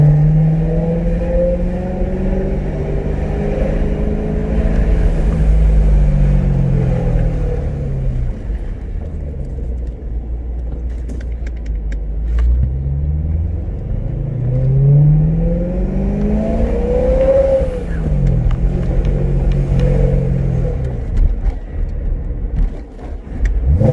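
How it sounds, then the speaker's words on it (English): A supercharged car revs repeatedly, engine rising and falling in loud sweeping tones with a whooshing blow-off recirculation valve release, continuous and close, with no talking. "I do like the sound, like the blow off"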